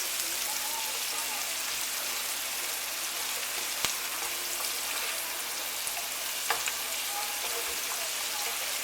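Onion softening in plenty of butter in a pan while chicken and ham pie filling is made, giving a steady, gentle hiss and crackle throughout, with a couple of faint clicks.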